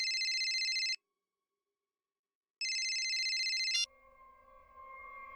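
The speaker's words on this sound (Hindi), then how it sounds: "अब इस वक्त किसका फोन आ गया?" A phone rings in a scene from the Hindi TV crime drama CID: two loud, steady electronic ring bursts about a second each, separated by a pause, with the second cut short before quieter room tone follows.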